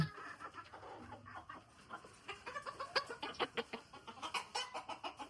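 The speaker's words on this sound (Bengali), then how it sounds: "মানে এই হচ্ছে আমার খাঁচার মুরগিগুলা" Caged hens cluck in a steady, rhythmic run of short notes that grows busier toward the end, close by and moderately quiet, with no talk over them.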